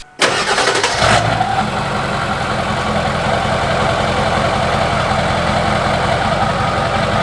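A Ford 7.3 diesel truck fitted with a big 8-inch exhaust tip starts on a cold morning, with a brief loud cranking burst that catches within a second, then settles into a steady, deep, close idle rumble.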